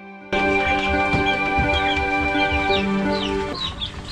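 Free-range village chickens cluck steadily and close by, several birds overlapping in a busy farmyard chorus with no talking.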